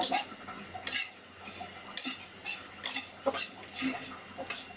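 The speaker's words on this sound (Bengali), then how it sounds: "কড়াই গরম হয়ে গেছে, দিয়ে দেবো তেজপাতা, প্রথমে শুকনো মরিচ, ধনে আর গরম মশলা" Bay leaf, dried chilli, coriander and garam masala dry-fry in a hot wok, giving faint crackling and repeated scraping strokes of a spatula against the metal at a steady rhythm, close and quiet, with no voices.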